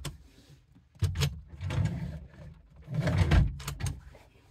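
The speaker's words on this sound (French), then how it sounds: "Et en partie basse du lit, vous allez trouver aussi des tiroirs." A few wooden scrapes and knocks as a drawer under a motorhome bed slides open and shut, close by, with quiet pauses between the movements.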